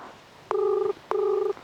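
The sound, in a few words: phone call ringing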